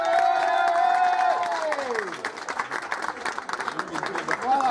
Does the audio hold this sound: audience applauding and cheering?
yes